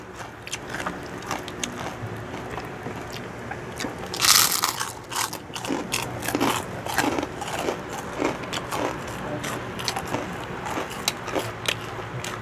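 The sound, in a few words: crunching crispy pork chicharon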